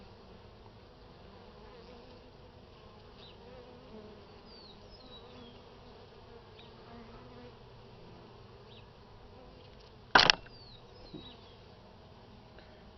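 Honey bees at an opened hive during a spring inspection give a steady, faint, continuous buzz, with a few louder wingbeat passes near the microphone and a brief sharp knock near the end.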